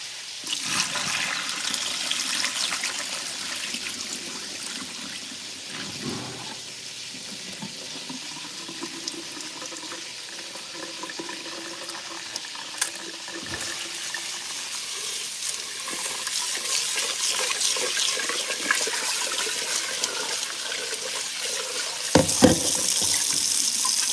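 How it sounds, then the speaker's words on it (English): Rice is rinsed under a running kitchen tap, a steady hiss of flowing water with sloshing and swirling as the grains are stirred, continuing for more than twenty seconds without any talking. "Technically, you're supposed to wash the rice until the water is clear"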